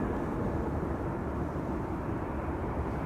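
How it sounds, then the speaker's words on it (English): KLM flight 1354 from Prague arrives at Amsterdam Schiphol, and its jet roar is a steady, broad rumble that stays loud and constant throughout. "The next arrival is KLM flight 1354 arriving from Prague in the Czech Republic."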